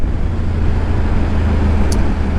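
A Triumph Tiger 900 motorcycle riding in road mode without the quick shifter, heard as a loud, steady, close roar of engine and wind.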